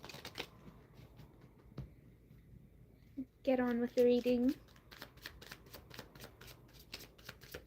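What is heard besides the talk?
shuffling tarot cards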